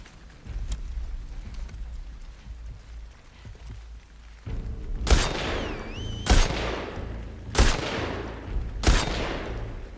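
Gunfire from a video game: a run of four sharp, loud shots spaced about a second apart, each with a ringing tail, coming after a stretch of low rumbling background.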